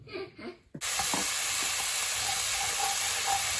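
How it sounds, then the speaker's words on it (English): Sweet and sour tofu with pineapple being stirred in a hot pan, a steady loud sizzle and hiss starting abruptly after brief muffled sounds, with faint scraping under the frying. "Give that a stir"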